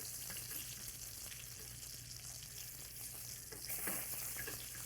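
Steak sears in a fry pan of clarified butter, a steady close sizzle and crackle running the whole time, with a few scraping stirs and pops swelling near the end.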